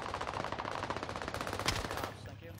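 Rapid automatic gunfire in the Warzone video game, a dense string of loud sharp shots in quick rhythm, close and continuous before tapering off near the end.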